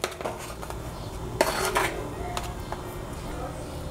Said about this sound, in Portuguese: Agora vamos cortar para ver essa cuca por dentro.